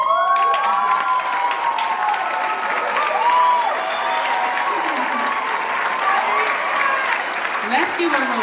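Graduation audience applauding teachers, advisors and staff, a full, continuous wave of clapping with scattered cheers and shouts, voices rising through the crowd and some tonal calls or whistles over the top.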